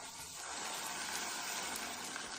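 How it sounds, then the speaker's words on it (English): Vinegar pours into chopped tomatoes in a cooking pan, a steady soft liquid splash lasting a couple of seconds, fairly quiet and close with no talking. "Now I'll add the vinegar"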